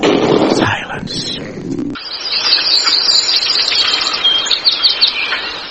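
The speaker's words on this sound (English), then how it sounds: "the forest was filled with the sounds of singing birds" Birds sing in a forest with bright chirps and tweets filling the air after a brief spoken passage at the start.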